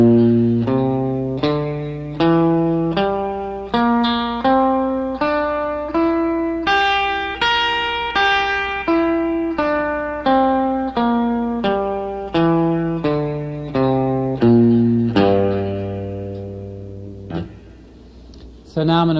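A clean electric guitar plays a blues pentatonic scale variation using E natural in place of F, single picked notes ascending then descending in an even rhythm, closing on a held low note.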